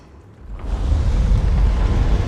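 A deep, rumbling roar swells in after a brief quieter moment and keeps booming steadily, heavy and loud, like a sustained explosion, from explosions in the video game Guild Wars 2.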